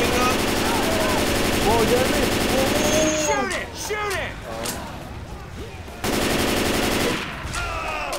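Guns fire in rapid automatic bursts in the modded Left 4 Dead 2 game, loud and dense at first, then thinning into scattered shots under excited voices.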